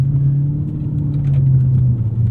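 A 2001 Lexus GS 430 with its naturally aspirated V8 accelerating, a loud, close, steady engine drone with a rising hum heard from inside the car, no talking.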